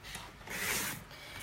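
A paper trimmer cuts cardstock for a handmade card, a soft, close scraping swish that swells to a single brighter rasping stroke in the middle, then fades, heard alone and fairly faint.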